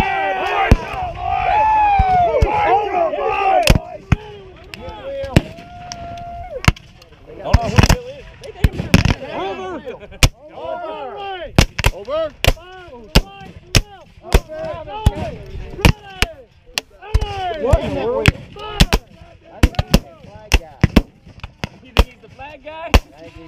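Black-powder muskets crack in scattered independent fire at a Battle of Richmond, Kentucky reenactment, with dozens of loud, sharp shots spread irregularly over the clip while commands are shouted and voices carry in the background.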